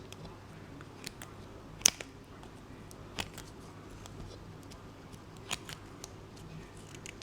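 Scissors snip excess cloth for a Bandai 1/12 trooper figure, a few sharp, close cuts at irregular intervals against a quiet background, with no talking.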